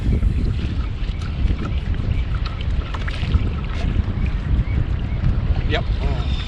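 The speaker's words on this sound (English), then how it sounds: "And with the kayak, even with the motor in the middle, it's a bit slow going." A kayak with a small motor mounted in the middle moves slowly along a river fishing for flatheads. Water rushes and splashes continuously against the hull over heavy wind buffeting on the microphone.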